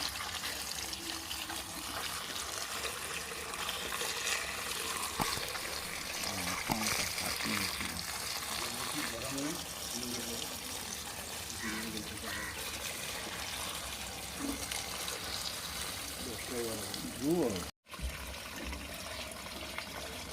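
Cut kochur lati (taro stolons) being rinsed under water, a steady close trickling and splashing that runs almost without a break, with a short dropout near the end.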